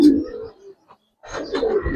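Pigeons at a pigeon seller's coo in close, soft throaty bursts at the start and again after a short pause, with no talk over them.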